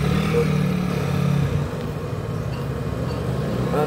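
A Samdon solar inverter's cooling fan running under heavy load gives a steady low droning hum with a faint higher whine, continuous and fairly loud at close range.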